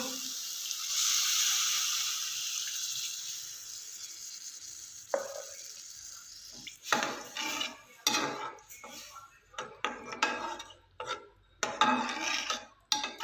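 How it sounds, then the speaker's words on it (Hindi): Water poured into a pot of softening vegetables, cabbage among them, for a chicken vegetable soup, followed by clattering utensils, stirring and faint sizzling in a home kitchen, with clanks and scrapes coming in uneven bursts. "अब मैं इसमें शामिल करूँगी तकरीबन 2 गिलास पानी।"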